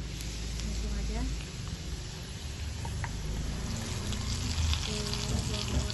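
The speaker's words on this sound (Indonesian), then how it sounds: "Nanti cabai ini akan kita siram sama minyak panas" Hot oil sizzles as it is poured over ground chili, fried shallots and salted fish, a steady frying hiss with a low clatter and a voice talking over it.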